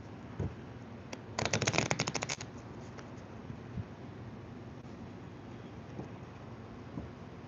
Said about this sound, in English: I'm gonna do the full shuffle here.